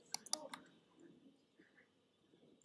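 A few quick, faint mouse clicks at the start, then a quiet room with low background noise and one more click near the end.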